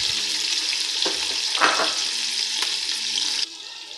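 Crushed onion and green chili frying in a pan for chicken maqlooba, a steady close sizzle with a few stirring scrapes and knocks, dropping slightly quieter near the end.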